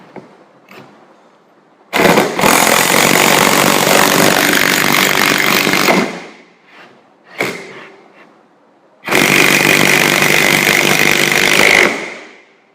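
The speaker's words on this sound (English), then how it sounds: "the drill is sending an impact motion in a circular way so that it can drive the screw with more power" An impact drill drives a screw in two long, loud bursts of hammering whir, each lasting several seconds, separated by a short pause and a brief blip, close and alone.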